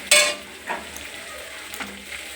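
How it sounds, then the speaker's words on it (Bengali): Cabbage frying in hot oil with green chilli and ginger, a sharp sizzle bursting loudly at the start and then settling into a steady hiss, with a few soft stirring scrapes breaking through. "কাঁচা লঙ্কা আদাটা মাঝখানে তেলটা একটু ভালো করে ভেজে নিলাম"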